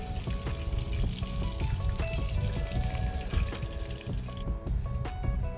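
Dried red chillies, green chillies and curry leaves crackling in hot oil for a tempering, a steady busy sizzle with sharp pops throughout, close and fairly loud with no talking.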